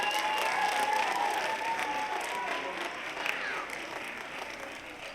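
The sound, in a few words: audience applause at a school holiday program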